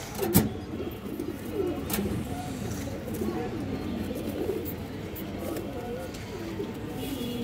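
Pigeons coo in a low, throaty, rolling warble close by, continuous over several seconds, with a few sharp knocks and faint speech in the background.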